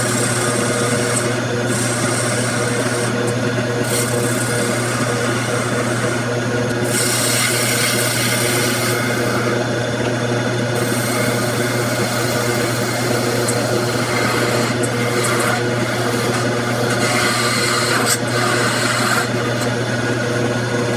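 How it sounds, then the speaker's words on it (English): A turning chisel cuts maple on a lathe, making a loud continuous scraping rub over the low hum of the spinning machine, with brief brighter bursts as the edge bites. "turn the chisel and let it cut with this edge"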